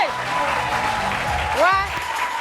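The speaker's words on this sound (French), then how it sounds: "Applaudissez!" Studio audience on a TV game show claps steadily under a speaking voice, the applause a dense wash running throughout at moderate loudness.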